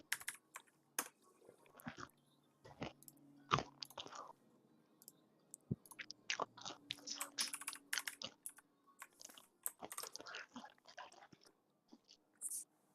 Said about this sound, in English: I apologize if everyone can hear me loudly chewing.